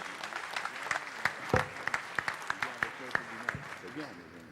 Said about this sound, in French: On l'applaudit aussi, bien évidemment.